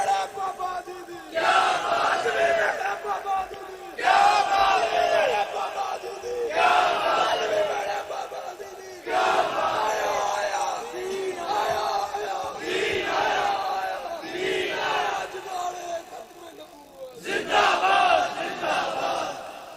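A large crowd chants Khatm-e-Nubuwwat and Labbaik slogans in repeated call-and-response bursts, with a loud roar of many voices rising and falling every couple of seconds.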